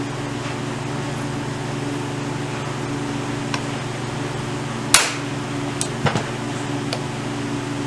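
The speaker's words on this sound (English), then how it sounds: "I had a comment about me using a little claw hammer" A small claw hammer strikes a few sharp, isolated blows, one louder knock followed a second later by a quick pair of taps, over a steady low mechanical hum.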